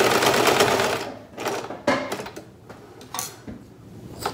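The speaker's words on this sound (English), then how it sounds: "I keep sewing all the way to the end" Sewing machine running in steady bursts as it stitches fabric for a handmade mask with ties, loud and close, broken by a few short pauses with faint clinks.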